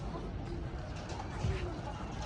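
Pigeons coo softly with a low, faint call around the middle, set against a quiet background murmur of outdoor rooftop ambience.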